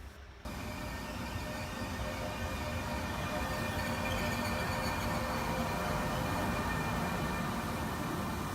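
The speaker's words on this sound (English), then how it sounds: "sleeper train north to Genoa." An overnight sleeper train running from Salerno north to Genoa, heard as a loud, continuous rolling roar with a steady hum and faint squealing tones that starts abruptly and holds without pause.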